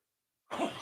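A single sudden sneeze bursts out of silence, close but fairly quiet, with no talk around it.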